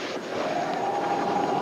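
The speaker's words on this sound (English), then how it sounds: "Sounds like a helicopter." Steady droning engine with a humming tone, like a helicopter overhead, constant and moderately loud with no talking.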